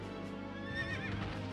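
A horse neighs in the Berwick Saga video game, a loud whinny rising over a steady game music bed with hoofbeat-like clip-clop, heard alone without talk.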